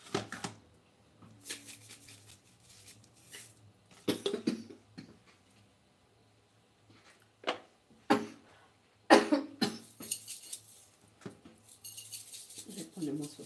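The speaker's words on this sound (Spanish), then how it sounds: "a mí la pimienta me hace toser" Several separate coughs and throat clearings, set off by pepper while frying mojarra, burst out at irregular intervals, with quiet pauses and faint kitchen clatter between them.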